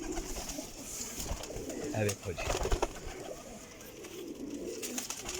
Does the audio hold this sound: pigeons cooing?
yes